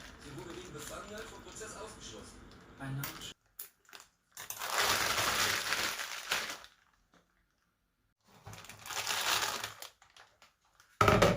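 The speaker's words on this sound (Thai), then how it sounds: "แล้วก็เอาใส่ถุงพลาสติก ห่อไว้เข้าตู้เย็นไว้อีกหนึ่งคืนนะคะ" Marinated chicken is wrapped in a plastic bag, the plastic crinkling and rustling in several separate bursts with short silences between them.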